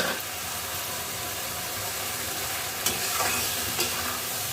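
Spices and ground tomatoes frying in a pan for a mushroom curry, a dense even hiss of sizzling throughout with a couple of brief stirring scrapes near the end, no voices.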